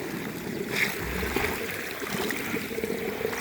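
Water thinned with fresh cow dung flowing and trickling along an earthen irrigation channel on a farm, a steady close gurgle running throughout with no one speaking.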